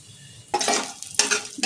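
Sun-dried lentil dumplings frying in mustard oil for sukto: two loud bursts of close sizzling and stirring rattle against the pan, separated by a brief quieter moment, with no voices.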